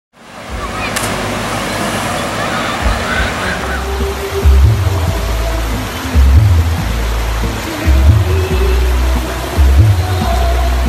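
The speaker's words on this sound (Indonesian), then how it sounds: "duduk santai menikmati aliran sungai nang deras ini" Rushing river rapids at Riam Bajandik in Hulu Sungai Tengah, a loud, steady broadband roar of fast water that fills the whole span, with a low rumble swelling in a few brief surges.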